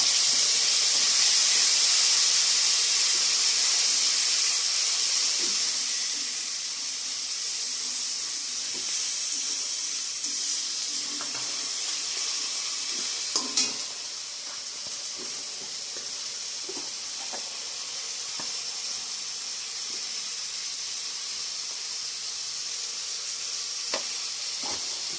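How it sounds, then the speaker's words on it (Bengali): Onion and garlic paste hits a hot pan with a loud burst of hissing sizzle that settles into a steady, softer frying hiss, with a few light clinks of stirring. "পেঁয়াজির পেস্টটা দিয়ে দিলাম। পেঁয়াজ, রসুন একসাথে।"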